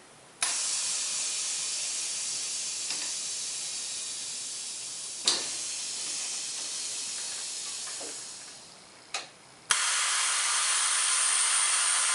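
Motorcycle air ride suspension on a Yamaha Road Star fed from an air compressor, giving a long steady hiss with sharp clicks and valve bursts as it raises and lowers, ending in a louder, brighter hiss.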